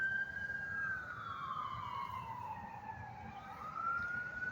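A siren on an ambulance or fire truck at a Pflugerville intersection wails in long rising and falling sweeps over a low traffic rumble, heard at moderate distance and steady throughout.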